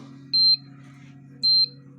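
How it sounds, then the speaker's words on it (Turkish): Two short, high electronic beeps from an egg incubator alarm, spaced about a second apart over a low steady hum. "Şu an ısıyı tamamlayana kadar alarm veriyor."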